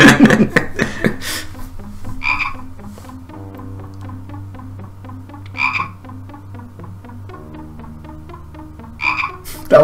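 Frog croaking from the Simon the Sorcerer adventure game, rhythmic bursts of croaks repeating roughly every three seconds over a steady low musical drone, clear and loud with no talking.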